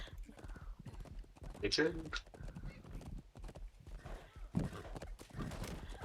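Horse hooves clip-clop at a steady gait, with a clear whinny from a mount in the medieval combat game Chivalry 2. Players talk over and around the game sounds.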